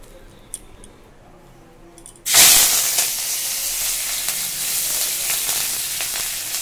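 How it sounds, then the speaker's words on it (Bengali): Curry leaves dropped into hot oil set off a sudden loud, broadband sizzle that holds steady after a quiet start. "কারি পাতাগুলো আমি দিয়ে দিয়েছি দেখো সেই তেলের ভিতরে"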